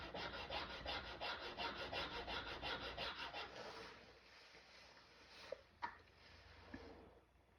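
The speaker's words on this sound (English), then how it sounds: "So just sanding the sides now so everything matches up." Carbon motor brushes for a window motor are sanded along their sides, giving a rhythmic back-and-forth rasping that is close and fairly soft, then trailing into a few light taps and scrapes.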